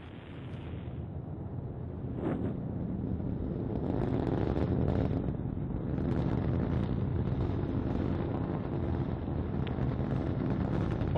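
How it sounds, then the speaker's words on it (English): Delta IV rocket carrying the GOES-O weather satellite roars at liftoff, a loud, sustained broadband rumble with wind buffeting that swells and holds steady throughout. "liftoff of the Delta IV rocket"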